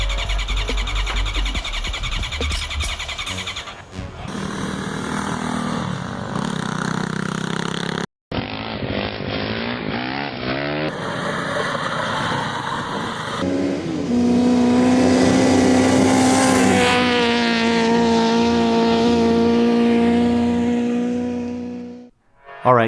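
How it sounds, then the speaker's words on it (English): A small golf cart engine roars and revs steadily for about twenty seconds, loud and close, its pitch climbing and holding before it suddenly cuts off. "I just really want to hear this engine run."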